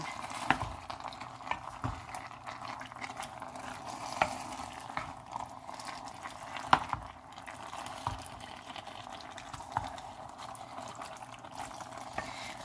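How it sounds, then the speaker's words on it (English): Drained beans being stirred into taco soup in a pot, faint wet scraping and sloshing with soft spoon knocks, close and quiet without talk. "Now I'm going to add in all of my beans that I drained. Give that a stir"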